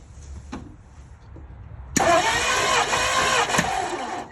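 Ford Thunderbird engine cranking briefly after a quiet pause, then catching and starting, settling into a loud steady idle with a slight rev, close by.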